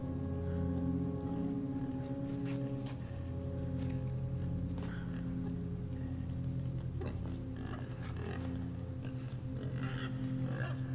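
Pig grunting in the video game Inside, low snorting grunts set over a steady droning game score, with a few short sharper noises scattered through, moderately quiet and continuous.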